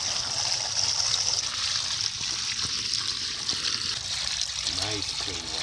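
Water pours steadily into a DIY fish pool pond, a continuous bright splashing gush, with someone briefly talking over it near the end.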